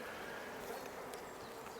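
A dense, even drone of honey bees buzzing in a hive after a nuc transfer, the steady hum continuous and close, with no voices.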